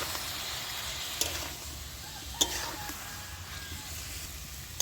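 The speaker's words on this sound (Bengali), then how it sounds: "অল্প অল্প একটু জল দিয়ে আমি কষিয়ে নেব।" Jackfruit and potato curry with spices sautés in a pan with a splash of hot water, a steady low sizzling hiss broken by two sharp stirring knocks.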